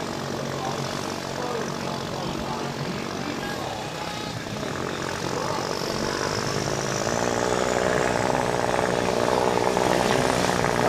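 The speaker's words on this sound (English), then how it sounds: "Sounds like we're getting the motor started and getting ready to go" A racing watercraft motor at a WGP World Cup and World Series 2022 final round drones steadily as it starts up, a continuous broadband engine roar that builds slightly in loudness toward the end, with no voices over it.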